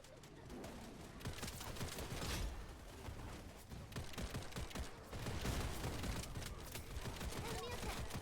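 Gunfire in the Wild Assault shooter game: dense, continuous bursts of shots and impacts, loud and near, rolling on without pause, with faint game voices underneath.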